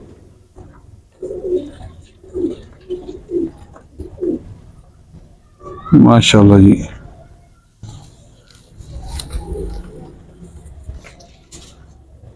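Teddy and golden kabootar pigeons cooing in a loft, a run of soft throaty coos with a louder burst close by, while someone speaks briefly.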